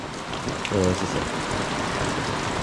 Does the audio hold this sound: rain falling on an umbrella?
yes